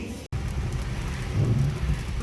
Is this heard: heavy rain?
yes